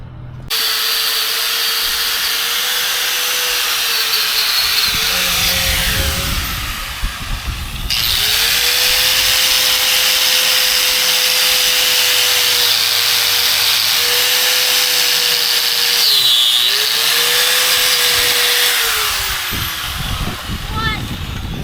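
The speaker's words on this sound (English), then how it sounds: "We're going to drill holes in this tube and weld to this inner tube." Power drill boring holes in a Dana 30 axle tube during an axle build, a steady continuous whine held for long stretches with brief pauses and pitch dips, loud and close, with people talking in the background.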